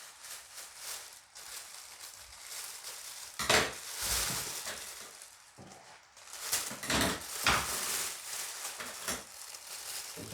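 Food frying in hot oil in a home kitchen, a steady sizzling hiss that swells and fades, with occasional stirring and clinks of utensils against a pan, close and fairly loud with no talking.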